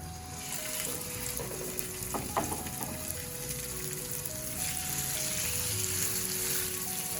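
Atlantic salmon searing in hot oil in a pan, a continuous close sizzle and crackle that holds steady throughout, with a few faint clicks in the middle.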